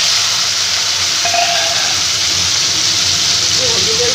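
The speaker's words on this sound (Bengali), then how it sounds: "আলুগুলোকে লাল করে ভেজে নেব।" Diced potatoes fry in hot oil tempered with whole spices, giving a loud, steady, close sizzle and hiss with no break throughout.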